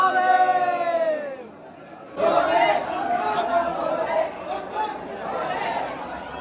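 A dense crowd of pilgrims at Mahakaleshwar temple in Ujjain fills the space with a continuous murmur of chatter that swells right after a voice stops speaking and stays steady and fairly close.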